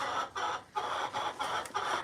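Chickens clucking in short repeated bursts, close by, a busy rhythm of clucks with brief gaps between them.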